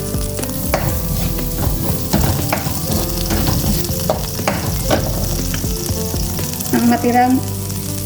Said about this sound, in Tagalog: Dagdag tayo ng konting oil. Sunod natin ang sibuyas.